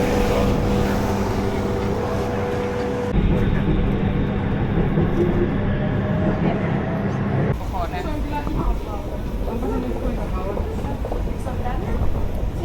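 A Bangkok metro train rumbles and hums steadily as it runs, its tone shifting partway through, while people talk nearby over the constant noise.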